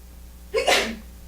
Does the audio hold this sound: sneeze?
yes